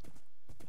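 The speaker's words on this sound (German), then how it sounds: "Mein Pferd ist viel zu langsam." Horse hooves clip-clop in the Minecraft video game: two quick clusters of light hollow clops, close and brief, with nothing else heard.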